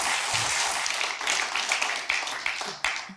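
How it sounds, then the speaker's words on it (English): An audience at a public talk applauds, a dense, steady wash of clapping that holds at a moderate level with a few sharper individual claps. "you should continue applauding for Charles Foster for his years of service"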